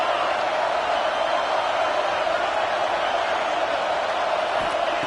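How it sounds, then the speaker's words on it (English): Roaring stadium crowd at a college football game between Pitt and Florida, a loud, steady wall of noise that holds at the same level throughout with no break. "This crowd going to try to make life miserable for these guys."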